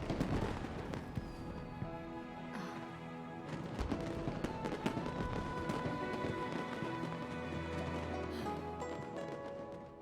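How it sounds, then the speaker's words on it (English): Fireworks pop and crackle in bursts throughout a Genshin Impact game scene, layered over game music and effects. "Way over there, a firework that looks just like a pig!"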